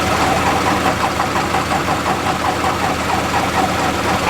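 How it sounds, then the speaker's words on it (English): An old truck engine running steadily after starting, a loud, close, rough rumble with a rapid rhythmic knocking pulse throughout, no talking. "Dedic bought his 14th truck, so we're about to see if it even starts."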